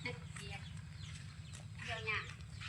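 Farm chickens clucking and crowing in short bursts nearby, with a person talking over them.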